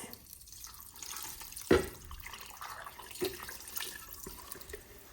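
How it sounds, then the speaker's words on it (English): Chicken broth and cornstarch mixture poured over vegetables, quiet liquid trickling with a few distinct drips and a sharper splash, heard close and soft without speech. "I'm gonna get this poured over the veggies."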